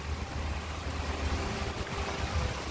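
Water rushes steadily beside red autumn maple trees, a constant broadband wash heard up close with some wind noise on the microphone, and no voices.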